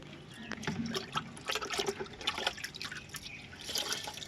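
Water runs and splashes across a rooftop, an irregular trickle with scattered drips and brief louder gushes, fairly faint and continuous.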